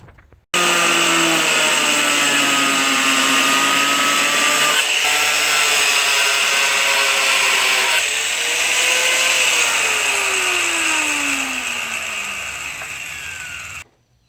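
A power tool cuts into a Foxbody headlight housing to open room for a projector retrofit. It makes a loud, continuous grinding whine whose pitch sags and shifts as the blade bites, then stops abruptly at the end.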